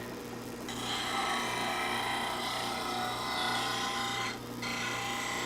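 A scraper lathe tool's bevel is ground on a flat abrasive plane, giving a continuous close rasping scrape that runs steadily for several seconds with one brief pause near the end.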